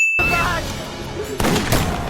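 A burst of gunfire aimed at a train rattles loudly, then drops away before a second sharp volley of shots cracks out near the end.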